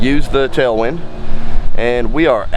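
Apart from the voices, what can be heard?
None of the usual background noises is heard.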